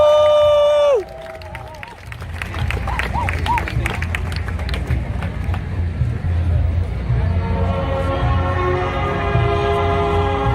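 Right after a band's music cuts off, an outdoor audience at the US Army's 250th birthday celebration breaks into sustained applause and cheering, with crowd murmur beneath.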